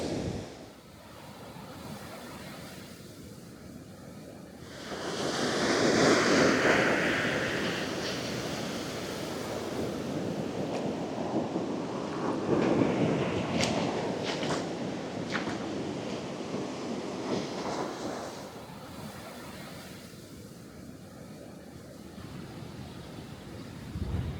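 The Jaunupe river flows outdoors, a steady rushing wash of water that swells louder in the middle stretch and eases off again, with some wind buffeting the microphone and no voices.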